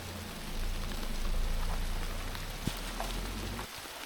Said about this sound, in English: This rain is not helping. Look at the size of those droplets.